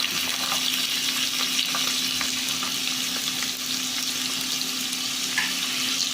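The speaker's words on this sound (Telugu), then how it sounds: "నూనె కొంచెం వేడెక్కాక జీలకర్ర వేసుకుందామండి అలానే ఆనియన్స్ పచ్చిమిర్చి కూడా వేసేసుకుందాం" Cumin seeds, sliced onions and green chillies fry in hot oil for a bendakaya curry, giving a steady, dense sizzle with scattered crackles and occasional stirring scrapes, close and continuous with no talk.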